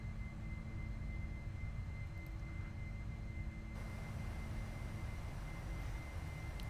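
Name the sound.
loud Mitsubishi MU-2 aircraft engine noise in flight simulator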